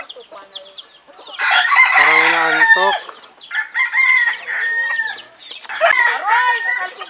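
A rooster crows loudly in a long stretched call during a walk through a rural place outdoors, followed by clucking chickens, with people talking close by before and after.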